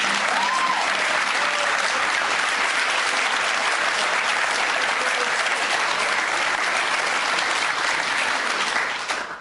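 Studio audience at a UK game show breaking into sustained, loud applause and cheering, a dense even wall of clapping that holds steady before tapering off at the very end.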